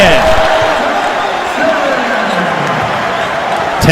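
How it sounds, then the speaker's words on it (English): Steady roar of a college basketball crowd during an Oregon vs Michigan men's NCAA game, rising briefly after a layup, filling the arena evenly for a few seconds with a swell again at the end. "you could hear the crowd get into it"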